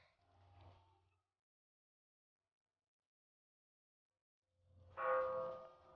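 A bell at a Thai temple is struck twice, each a soft, distant ring that fades out, separated by a long silent gap, with the second stroke louder and fuller.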